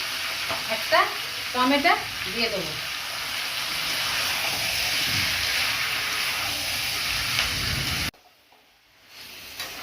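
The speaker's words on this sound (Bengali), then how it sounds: "এই দেখুন চিকেনটা সুন্দর ভাজা ভাজা করে নিয়েছি আমি রসুন পেঁয়াজ দিয়ে।" Chicken frying with garlic, onion and a tomato makes a steady, close sizzle and hiss, with brief stirring scrapes early on. A person speaks briefly over the cooking, and the sound cuts to near silence at the end.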